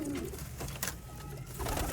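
Sialkoti pigeons cooing close by, a couple of soft low calls rising over a steady background murmur.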